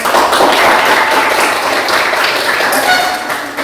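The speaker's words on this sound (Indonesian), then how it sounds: "beri tepuk tangan aku buat kelompok." A classroom of students claps for a group of classmates, a loud, dense round of applause that holds steady and tapers slightly at the end.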